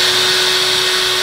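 Steady high-pitched whir of a variable speed drill spinning a homemade mixer made from three kebab skewers. The sound is loud and close, holds constant, and has no speech over it.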